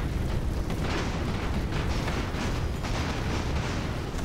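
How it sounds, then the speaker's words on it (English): Continuous rumbling game explosions from the airship combat game Airships: Conquer the Skies, a dense, loud wash of secondary blasts after a ramming attack, sustained without pause and with no talk over it. "and then secondary explosions"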